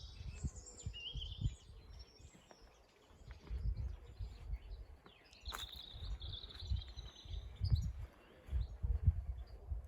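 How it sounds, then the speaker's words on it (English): Birds sing in a Suffolk garden in April, with high chirps and short warbling phrases over faint low rustling and background rumble, soft and somewhat distant. "Listen to the birds."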